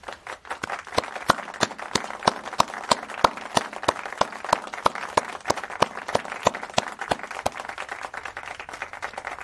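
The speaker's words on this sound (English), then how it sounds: "why don't we just clap?" An audience at a university graduation ceremony breaks into applause, with many individual claps ringing out sharply and a steady crowd clapping underneath throughout.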